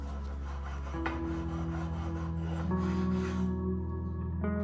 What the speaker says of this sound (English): I could just hit that with a file really quick and then sandpaper to smooth it out